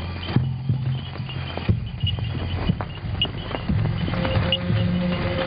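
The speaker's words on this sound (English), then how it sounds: "Zebras are all around, yet the zebras have no idea there is a predator in their midst." Zebras walking on open ground, their hooves clip-clopping in an irregular, steady rhythm at close to middle distance, with faint ambient background and no talking.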